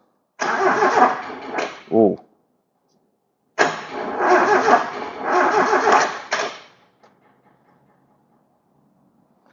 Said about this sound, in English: I think the starter motor's just on its way out because that turns relatively easily.